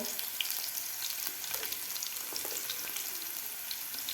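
Finely chopped green chilies sautéing with a pinch of asafoetida in a pan, a dense, even crackling sizzle with light popping, close but fairly quiet, continuous and without talking.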